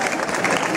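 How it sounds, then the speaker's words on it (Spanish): Dense, steady applause from an audience at an awards ceremony, a continuous wash of clapping filling the whole brief moment. "Venga, Manolita, ponte ahí en tu sitio, venga, ese aplauso, por favor"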